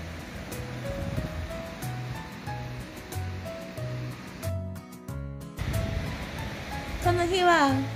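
Ocean waves at Shioya beach in Otaru, a continuous wash of surf rising and falling in the background, with music playing over it and a short silent gap midway.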